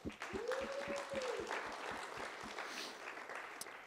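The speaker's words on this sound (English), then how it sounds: "Round of applause for both of you." An audience claps a round of applause at a New York cannabis industry gathering, steady dense clapping filling the room for several seconds, with a brief whistle-like tone near the start.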